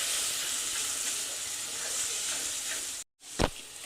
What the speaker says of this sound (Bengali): দিয়ে এই মশলাগুলো খুব ভালোভাবে আগে কষাবো